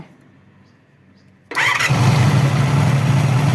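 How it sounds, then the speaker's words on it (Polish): A 1985 Honda Magna VF500C V30 motorcycle with freshly tuned, synchronized carburetors fires up after a quiet moment, its engine catching abruptly and settling into a loud, steady idle close by. "Tak pracuje. Wystrojony silnik, gdzie jest ładnie synchronizowany, czysty, ustawione skład mieszanki."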